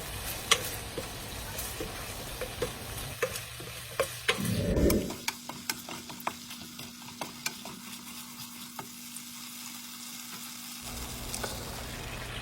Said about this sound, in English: I'm gonna put my green pepper, red pepper, and tomato into the sauce and fry them for a few minutes until they cook